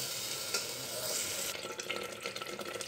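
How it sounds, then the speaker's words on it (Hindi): Onion and spice masala for rajma sizzles in a pan with a soft, steady hiss, and a few light stirring scrapes follow near the end. "अभी भुन रहा है"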